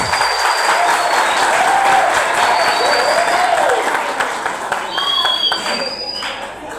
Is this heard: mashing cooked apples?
no